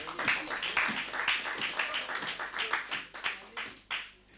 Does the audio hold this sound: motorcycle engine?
no